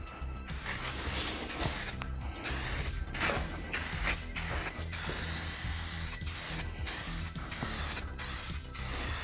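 An aerosol can hisses in repeated short bursts, misting adhesion promoter onto a car door panel. Each spray is loud and close, separated by brief pauses and faint clicks of the nozzle, with no talking.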